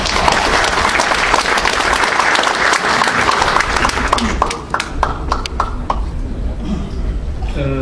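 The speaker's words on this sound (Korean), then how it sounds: "여러분 박수로 맞이해주십시오" Loud, dense applause fills a hall at a Korean book-launch celebration as a guest speaker is welcomed to give a congratulatory address, the clapping sustained before thinning into scattered claps near the end.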